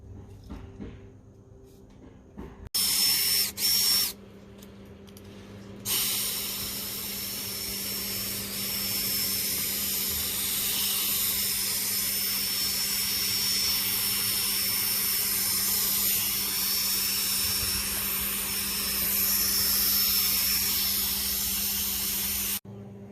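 Epoxy primer sprayed from an aerosol can onto a Ford Bronco's new gas tank: a few short hissing bursts, then a long continuous close spray hiss that lasts most of the stretch.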